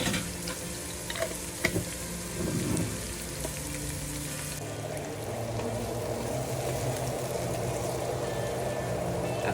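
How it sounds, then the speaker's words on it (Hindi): Chopped onion fries in a pan with ginger garlic paste, giving a steady close sizzle and crackle with occasional stirring scrapes and no voices. "अब प्याज को हम हल्का सा ब्राउन करेंगे"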